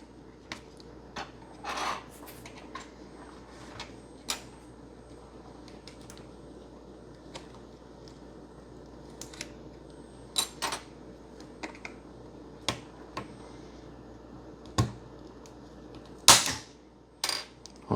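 Lithium polymer battery packs from a Toshiba Libretto W100 laptop are pried apart with a tool, giving scattered scraping rasps and sharp clicks and snaps over quiet stretches, with a louder cluster of cracks near the end.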